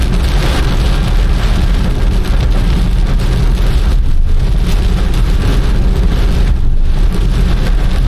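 Heavy rain pours down steadily and loudly around a car on the road, a dense continuous wash of noise with no talking.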